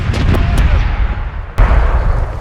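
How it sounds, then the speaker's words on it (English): Broadside cannons on a ship in a pirate RPG video game fire in a loud, rapid volley of booming shots, followed by one more heavy blast after a short pause, over rumbling sea and battle noise. "side cannons!"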